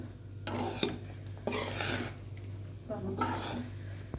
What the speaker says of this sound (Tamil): மெதுவாக கிளறி விடுங்க